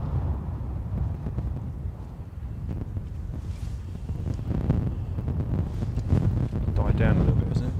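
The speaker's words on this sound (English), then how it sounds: "Died down a little bit, hasn't it? The wind" Stormy wind at Gatwick Airport buffets the microphone in loud rumbling gusts that swell and ease throughout, with a distant roar underneath.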